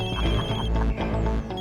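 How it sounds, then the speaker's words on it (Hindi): A phone ringtone sounds loud and close, a steady electronic tone with a strong bass undertone that pauses briefly and starts again. "तुम्हारा फोन बज रहा है।"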